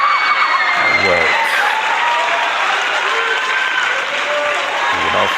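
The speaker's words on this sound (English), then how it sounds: "let's get the round of applause going" Sustained audience applause with some cheering from a crowd, loud and continuous throughout, with brief voices breaking through.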